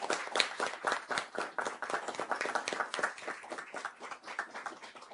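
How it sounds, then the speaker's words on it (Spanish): Audience at a book presentation on the Donald Trump presidency applauds steadily, a dense run of many hands clapping with no talk over it, moderately loud throughout. "el doctor José Luis Orozco, para quien pido, por favor, un aplauso en reconocimiento a su labor educativa."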